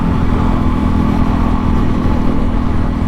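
A Honda CRF300L motorcycle fitted with a MotoX exhaust rides along on a commute, a close, loud, steady engine drone with a low throbbing rumble, wind noise, and no talking.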